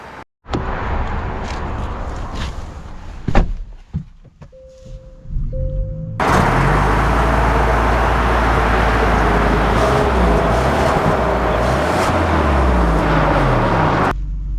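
A 2024 Genesis G70 2.5T starts up and drives, with a steady, loud engine and road roar filling the interior after a few clicks and faint tones.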